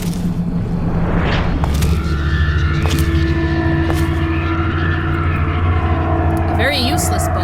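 A propeller airplane in the Hellsing Abridged cartoon drones steadily overhead with a low rumbling hum, while people talk over it.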